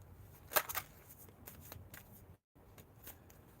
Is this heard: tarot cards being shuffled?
yes